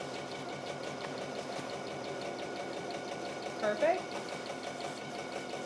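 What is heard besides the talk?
sewing machine quilting fabric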